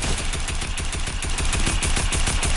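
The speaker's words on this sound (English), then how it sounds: "I'm trying to shoot down the structures." Rapid automatic gunfire in Fortnite aimed at player-built structures, a dense close burst of shots firing in fast even rhythm for the whole stretch with no voices.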